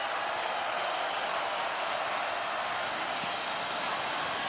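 A college football stadium crowd at a Wisconsin home game against Arizona State, a steady broad roar of cheering and noise that holds at a constant level throughout.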